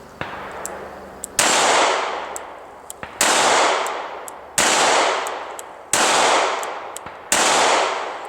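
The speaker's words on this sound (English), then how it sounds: "Next one we're going to shoot is the Smith Wesson Bodyguard." A Smith & Wesson Bodyguard snub nose revolver fires six sharp, loud shots spaced about a second and a half apart, each with a crack and a decaying outdoor echo, with faint clicks between.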